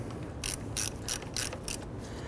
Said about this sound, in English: you want to use your ratchet to go ahead and snug these down in a position